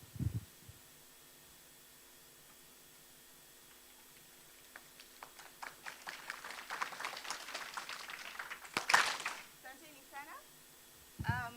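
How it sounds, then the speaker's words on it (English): An audience at a veterinary association congress panel discussion starts with scattered light claps that swell into a few seconds of fairly faint applause, then die away, with a murmur of voices around it. "So we can give the panel a hand clap because our time is spent"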